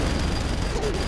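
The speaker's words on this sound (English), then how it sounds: "Okay, minigun, minigun, minigun." Minigun fire in Saints Row 3 roars as a dense, continuous rattling burst throughout, loud and close, with a voice faintly audible underneath.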